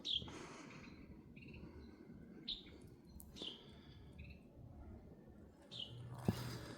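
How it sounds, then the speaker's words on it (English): Small birds in winter woods along a ridge-top trail give a few faint, brief chirps spaced through the stretch, over a low steady background with no talking. "Your little birds."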